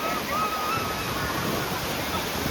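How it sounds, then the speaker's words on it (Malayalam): Rough sea waves heard from a boat out at sea: a constant, loud roaring wash of surf and wind noise with no clear breaks, and a faint voice in the background. "നല്ല തിര അടിക്കണ കടൽ കേട്ടോ"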